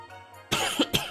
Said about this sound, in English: Excuse me, I cough a little bit.